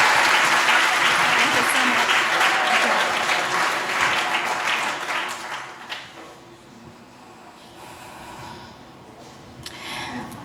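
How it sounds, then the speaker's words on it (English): Loud audience applause after a short conference ignition talk, many hands clapping densely at first, then thinning out and fading to scattered claps and faint room murmur toward the end. "come on over here, round of applause"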